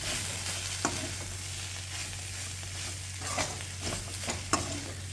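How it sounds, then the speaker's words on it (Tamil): Meal maker soya chunks deep-frying with pepper in a pan, a steady close sizzle with occasional stirring clatters and scrapes, no voices. "இப்போ கடைசியாக நம்ம வந்து பெப்பர் போட்டு நல்லா டீப் ஃப்ரை பண்ணணும்."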